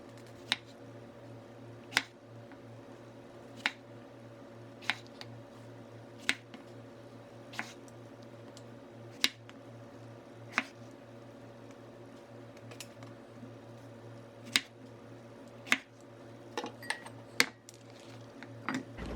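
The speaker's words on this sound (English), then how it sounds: "it's time for a fruit snack, I think. So let's chop that up in the kitchen" Knife chopping fruit on a board in a kitchen for a snack, a series of sharp, evenly spaced cuts with a steady fan hum behind them.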